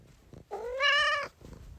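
A black cat gives a single drawn-out meow, clear and fairly close, rising and then falling over about a second, with quiet room sound on either side.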